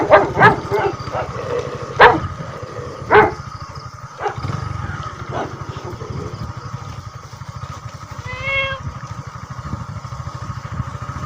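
Two dogs bark at midnight outdoors, sharp barks clustered in the first few seconds and then scattered, over a constant low engine-like rumble.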